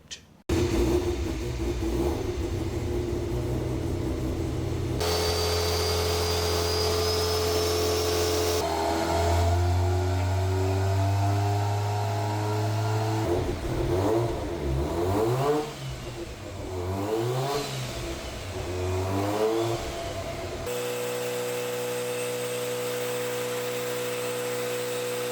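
A turbocharged Mazda RX-7 FD engine revs hard on a dyno during its first dyno run, its loud rising and falling pitch sweeping through several spliced stretches of steady drone and sharp throttle swells.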